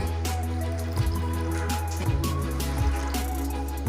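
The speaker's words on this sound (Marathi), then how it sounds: "आपण चार वाट्या पाणी ओतून घेऊया" Hot water pours steadily from a vessel into washed rice and fenugreek seeds for porridge, a continuous close splashing fill lasting several seconds with a few shifts in the stream.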